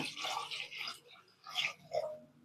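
Water poured over lentils and potatoes in a pressure cooker for cooking, a short splashing pour with a second brief gush, heard alone and fairly close.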